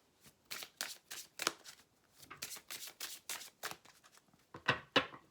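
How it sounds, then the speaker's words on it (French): Oracle cards are shuffled in a quick run of crisp, close riffling slaps, then a short pause and a couple of sharper flicks as a card is drawn, quiet and with no talking. "Donc on va prendre une carte."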